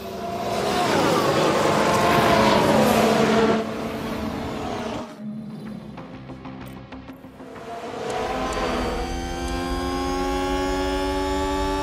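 Ferrari Formula 1 car engine in the F1 Manager 22 racing game: a loud, sustained high-revving roar that drops away briefly mid-clip, then returns as a steady rising engine note, with no talk.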